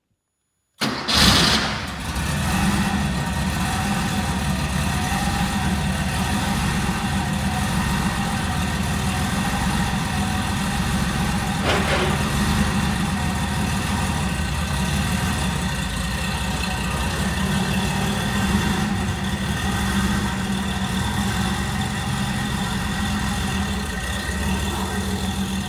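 A Porsche 930 Turbo fires up with a sharp start, then settles into a steady, loud, close idle that holds for about twenty-five seconds with no talking.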